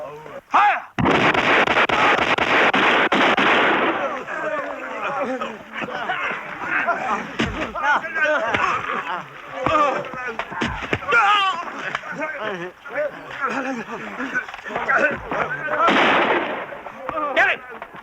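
Heavy gunfire erupts after a shouted order, with a long loud burst of rapid shots followed by scattered blasts mixed with shouting voices.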